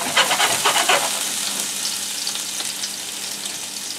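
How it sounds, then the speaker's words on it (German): Shallot and garlic fry in a hot pan, giving a steady, close sizzle with a few louder crackling bursts in the first second before settling into an even hiss. "In die Pfanne gebe ich jetzt die Zwiebel, respektive die Schalotte und den Knoblauch."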